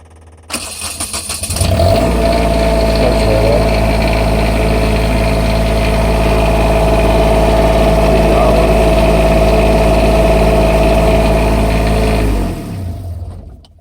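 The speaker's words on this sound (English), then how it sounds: "So you can see it's a Cummins 8000 watt generator." A Cummins 8000 watt RV generator on a 2011 Berkshire 390bh coach cranks over, catches, and settles into a loud, steady hum that drones evenly for about ten seconds before winding down at the end.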